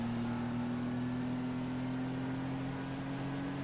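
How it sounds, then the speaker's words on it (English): Loud car engine in GTA Online holding a steady, droning hum with a faint rising whine, heard alone without any talk. "Speaking of, this car is kind of loud. I don't like it. I don't like loud engines, y'all."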